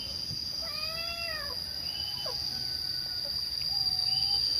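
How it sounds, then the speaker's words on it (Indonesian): A single cat meow with rising and falling pitch near the start, over steady insect chirring and faint outdoor ambience. "Ternyata di sini ada kucing."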